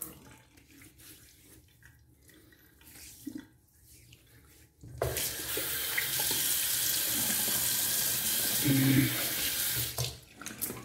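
Tap water gushes steadily from a faucet while soap is rinsed off, loud and continuous for about five seconds after a quieter start with faint handling noises.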